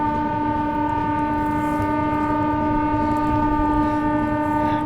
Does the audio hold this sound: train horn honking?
yes